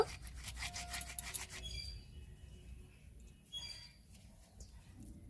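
Hands rub sugar, salt and cardamom powder into flour for a soft curd paratha dough, making a faint, soft, gritty rubbing and rasping close by, busier at first and then quieter.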